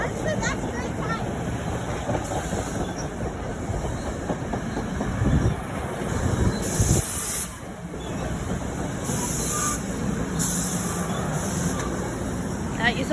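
A train passes at Maplewood with clickety-clack wheel noise and hissing air brakes, bursts of hiss breaking through a rumbling, uneven roll, with voices heard alongside.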